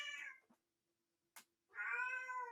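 A house cat meows twice, close and clear: a drawn-out cry, a short pause with a faint click, then a second, longer plaintive meow over a quiet room hum.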